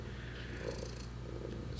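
Low, continuous purring from a nearby cat, a gentle rumbling throb that pulses with its breathing; no one speaks.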